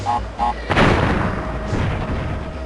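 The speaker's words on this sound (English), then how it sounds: "You don't want to get hit by those falling TNT. They instant explode if you do." A falling TNT crate in the Crash Bandicoot video game goes off as one sharp, loud boom that rolls away into a fading rumble. Busy game sound effects fill the background.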